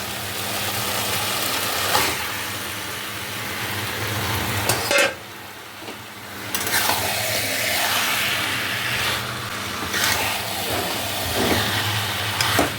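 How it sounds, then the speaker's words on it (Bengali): Marinated mutton pieces are sautéed over high flame in a pan, giving a steady, rushing sizzle with scraping and stirring noises that rise and fall over several seconds. "ভালো করে নেড়ে কষা হওয়ার জন্য দেবো"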